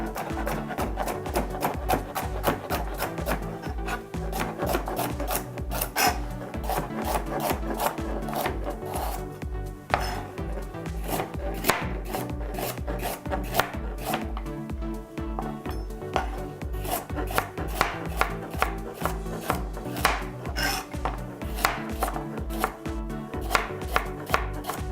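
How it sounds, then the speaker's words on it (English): A knife chops carrots on a board in a fast, steady run of close, crisp thuds that continues without a break and has almost no talking. "Just cut up all your carrots."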